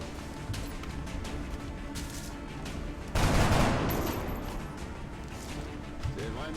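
Gunfire in the XCOM video game, a steady rattle of rapid shots that swells into a louder, denser burst midway before settling back to a continuous rattling under the game's sound.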